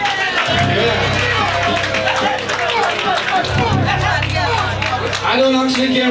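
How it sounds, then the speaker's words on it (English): An audience at a 1993 emancipation show at Sybil's applauds the band members, a dense, loud wash of clapping and crowd chatter filling the room while voices talk over it. "What about a round of applause for the members of the band?"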